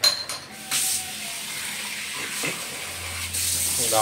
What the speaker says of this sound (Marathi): थोडं पाणी अजून घालूया